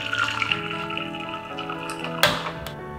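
Running water from a tap pours steadily as tri-colour quinoa is briefly rinsed, a continuous close splashing wash with a sharper splash burst near the end.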